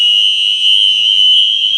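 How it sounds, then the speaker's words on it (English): A UMMT fire alarm horn blares very loudly and steadily during a fire alarm system test, one continuous piercing tone with no voices. "Dang, the UMMT is so loud."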